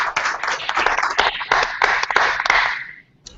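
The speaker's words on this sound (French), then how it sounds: "j'aimerais qu'on prenne un instant pour donner une main d'applaudissement à Diane" An audience at an annual general meeting applauds for Diane: close, dense clapping from a modest crowd with uneven bursts, fading out and stopping just before the end.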